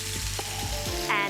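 Onion going into a hot pan with browned chicken for a stroganoff, a brief sizzle with soft stirring knocks.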